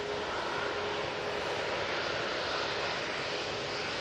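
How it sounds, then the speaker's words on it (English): An easyJet airliner departs Manchester Airport for Geneva, giving off a steady, loud jet engine roar with a faint tonal whine riding the broadband rush. "And this easyJet is off to lovely Geneva."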